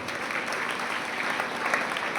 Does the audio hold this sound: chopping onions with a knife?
no